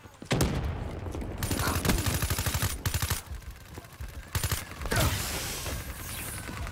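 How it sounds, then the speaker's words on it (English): Rapid automatic gunfire from a hovering Talon drone in Call of Duty: Black Ops 3, loud sustained bursts of game shots with short pauses between them, under a faint voice. "Under fire from Talon."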